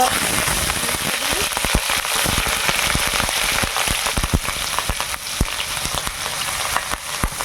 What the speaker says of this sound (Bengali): হলুদ না দিলে তেলটা ছিটকাতে থাকে